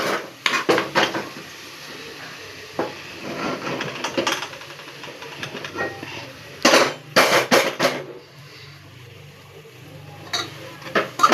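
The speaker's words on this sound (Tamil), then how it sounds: "கறியை தூக்கி அதில் தட்டிடலாம்" Meat being tipped into a cooking pot with spices, producing scattered clattering and scraping of metal utensils and cookware, sharp knocks and a dense cluster of clanks, with quieter rustling between.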